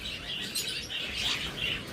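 Caged pet pigeons, with a pair sitting on two eggs, give soft chirps and light fluttering, faint and close, in short overlapping bursts with no talk.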